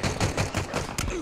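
Rapid automatic gunfire in Halo Infinite, a dense stream of loud bursts over about a second, with a faint voice mixed in underneath.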